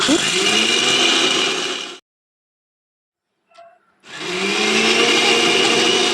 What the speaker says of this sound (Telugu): ఈ అగారో మిక్సీ నాకు చాలా బాగా నచ్చిందండి ఎంత త్వరగా మెత్తగా చేసేస్తుందంటే